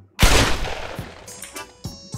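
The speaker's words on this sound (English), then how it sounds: "they be shooting civilians and shit" Gunfire in the Roblox video game: one loud, sharp close shot with a decaying tail, followed by several fainter, more distant shots spaced out.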